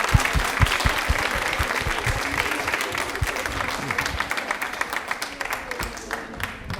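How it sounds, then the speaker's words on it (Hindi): An audience applauds a contestant on a Women's Day quiz show, with brisk clapping from a moderate-sized crowd that stays lively and fairly close throughout, the individual claps distinct within the steady patter. "दिव्या जी के लिए तालियां एक बार जोरदार हो जाए"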